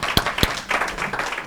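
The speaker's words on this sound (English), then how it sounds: "let's applaud that" Audience applause breaks out in a room, a dense patter of clapping with two sharp, louder claps standing out early, fairly close and continuing steadily to the end.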